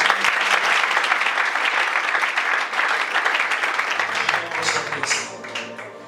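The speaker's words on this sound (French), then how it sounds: "Est-ce qu'on peut acclamer encore?" A church congregation at a worship service claps and cheers, a dense, continuous wall of applause that holds steady for several seconds before easing off slightly at the end.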